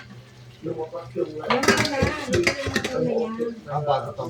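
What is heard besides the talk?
marinated pork frying in a pan for pork menudo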